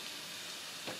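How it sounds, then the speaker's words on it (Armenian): Onions frying in a generous amount of butter in a pan for beef stroganoff, a soft, steady sizzle close by with a brief stir near the end. "առատ կարաքով սոխառած եմ անում, սոխը չպետք է շատ կարմրի, ուղղակի պետք է դառնա թափանցիկ"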